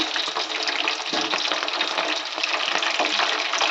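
Brahmi leaves dropped into hot oil for an Ayurvedic hair oil, giving a dense, steady sizzle and crackle at moderate volume with light stirring and no talking.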